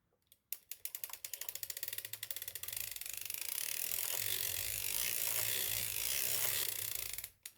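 A Kevlar yarn sock is knitted on a hand-cranked circular sock machine, producing a steady, close run of rapid clicking and ratcheting that grows denser and louder as the cranking continues. No one speaks.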